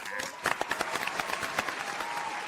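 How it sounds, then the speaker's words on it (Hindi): Scattered clapping from a small group in a sitcom scene, uneven sharp claps over a murmuring crowd with voices talking alongside. "अरे बजा ताली"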